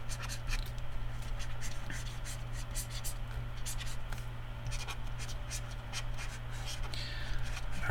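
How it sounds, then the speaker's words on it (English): Pencil roughly sketching figures on paper for a perspective drawing, a soft continuous scratchy scribble of graphite strokes running steadily throughout over a low constant hum. "I'm just going to kind of very roughly sketch in where our figures might sit"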